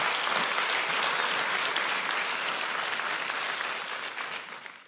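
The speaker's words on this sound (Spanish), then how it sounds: "Dele un aplauso al Señor con todo su corazón" Hearty congregation applause in a church service rolls on continuously for about five seconds, dense and fairly loud, easing off slightly near the end with no voices over it.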